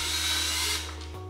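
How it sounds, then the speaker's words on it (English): A power drill drives a screw through a clear acrylic wall calendar into a wall with a stud behind it, a loud close whir that runs steadily, then winds down and stops after about a second. "Now I'm switching to this drill bit. Then I'm going to take the screw and put it through this."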